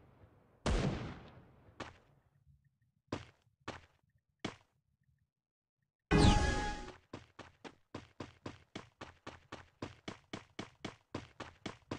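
Gunfire in the shooter game Garena Free Fire: several sharp single shots, then one loud blast, followed by a rapid, evenly spaced automatic burst.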